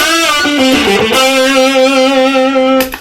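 A distorted electric guitar rings out a sustained, buzzing note after a short bend, played loud and alone, then cut off near the end.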